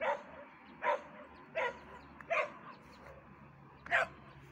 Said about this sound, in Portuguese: aí ele vai entrar no buraco e ele fica latindo